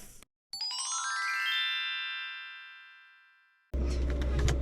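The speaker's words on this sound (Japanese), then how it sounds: "少し FF ヒーターつけようと思います。" An FF heater in a kei camper van switching on, a bright electronic chime ringing out and fading slowly, followed by a brief burst of operating noise.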